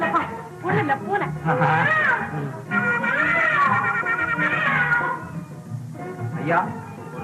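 A cat meows repeatedly up close, with drawn-out, wailing, rising-and-falling cries and short breaks between them, loud and clear.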